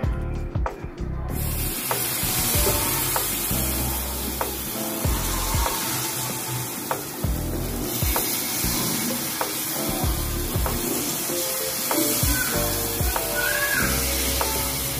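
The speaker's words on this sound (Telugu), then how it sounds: "దీనిలో ఆయిల్ వేసుకున్నాను. హీట్ ఎక్కింది. ఇప్పుడు మనం కలుపుకున్న మిశ్రమాన్ని కొద్దిగా వేసుకుందాము." Batter mixture frying on an oiled hot plate, a loud, steady close sizzle and hiss throughout with occasional crackles and scraping, no talking.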